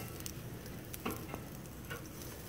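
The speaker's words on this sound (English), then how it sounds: "Show you guys what I'm cooking. These are, I think they're called Texas pork chops." Thick Texas pork chops sizzle over an open fire in a faint, steady hiss, broken by a few small pops and crackles.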